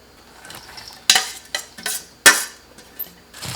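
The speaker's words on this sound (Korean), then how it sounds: "자, 지금 이렇게 버무려서 이제 김치 담글 거예요." Kale kimchi being tossed and mixed with seasoning including ginger powder and rice wine, giving a few sharp wet slaps and clatters amid soft rustling, close and fairly loud, with no talk.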